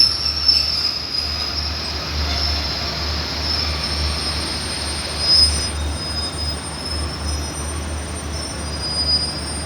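An express train pulls slowly out of a station on an evening run, steady rolling rumble with high, sustained wheel squeal along the whole stretch, heard fairly close and alone.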